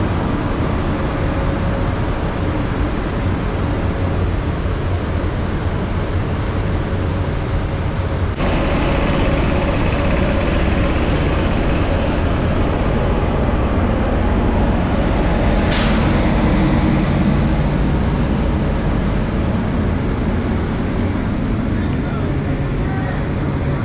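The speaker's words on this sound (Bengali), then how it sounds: "এই হচ্ছে লোকোমোটিভ।" An Amrit Bharat Express locomotive at Madaha Town station gives off a loud, steady, broadband rumble and hiss throughout, with a brief sharp burst midway.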